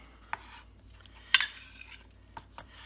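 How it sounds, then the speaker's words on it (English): A spoon stirs cantaloupe pieces with lime juice and honey in a bowl, producing a few scattered clinks and soft scraping taps, close and fairly quiet, with no voices. "You stir that up."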